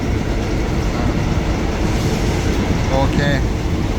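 An express passenger train in Thailand rumbles steadily, heard from inside the carriage as a loud continuous roar with brief mechanical squeals, and a voice talks over it.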